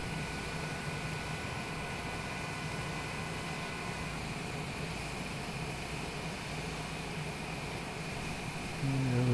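A Cessna Longitude business jet taxis after landing at San Francisco International, its engines giving a steady, loud broadband whine and rumble that continues throughout, with a low thump near the end.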